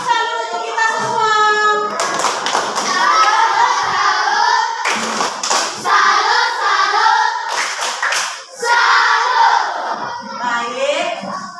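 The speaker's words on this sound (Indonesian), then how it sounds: "Tepuk salut untuk kita semua." Children in a primary school classroom clap together in a patterned group cheer, bursts of rhythmic claps with brief pauses, mixed with young voices chanting along.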